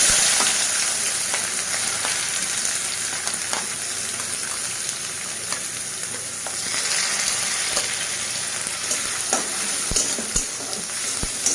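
Finely chopped onions sizzle steadily in a pan while being stirred, with a dense crackling hiss broken by occasional scraping clicks from the spatula. No voices are heard.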